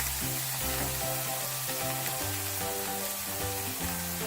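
Ginger, garlic and chilli sautéing in a pan give a steady, close sizzle that holds evenly throughout, with soft stirring underneath and nobody talking.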